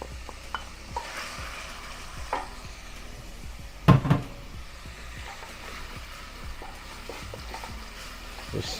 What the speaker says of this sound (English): let's go ahead and start with the onions. And we'll cook them a little bit, let them caramelize.